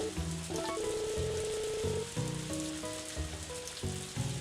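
Steady rain patters and hisses in the Harvest Moon: A Wonderful Life video game, a continuous wash of noise beneath the game's melodic background music, with no voices.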